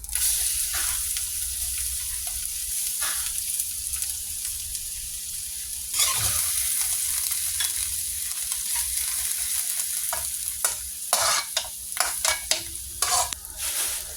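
Garlic frying in a pan for leftover cold rice, a steady bright sizzle with stirring scrapes and clinks throughout, close and fairly loud, with no talking.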